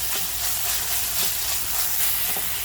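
Masala sizzles and crackles steadily in a hot pan while being roasted for chicken cheese rolls, a loud continuous hiss with faint stirring scrapes and no talk.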